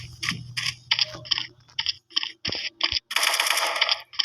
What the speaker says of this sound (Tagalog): Sorry, putok tuloy.